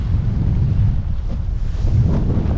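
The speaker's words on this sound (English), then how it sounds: "Definitely more wind now." Strong wind during a winter Hobie catamaran race: a steady, loud roar of wind buffeting the microphone, with a dull low rumble and no voices.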